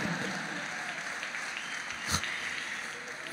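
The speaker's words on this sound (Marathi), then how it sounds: "याच्यासाठी तरी टाळ्या वाजवाच माझ्यासाठी." Scattered applause from an audience at a public interview event with Raj Thackeray, moderate and fairly distant, with a single sharper clap standing out briefly.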